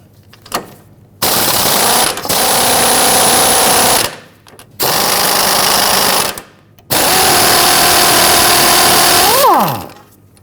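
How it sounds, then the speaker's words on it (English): An impact wrench loosening the outer tie rod nut on a 2007-2017 Jeep Patriot with an 18 mm socket, firing in three loud, close bursts separated by short pauses, the last ending with a falling whine as it spins down. "Using an 18 millimeter socket, we're going to loosen our outer tie rod nut."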